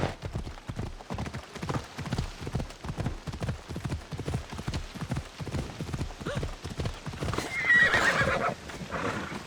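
A ridden horse gallops in Assassin's Creed Odyssey, its hooves pounding in a steady, rapid clip-clop rhythm for several seconds before a neigh and a burst of rushing noise near the end.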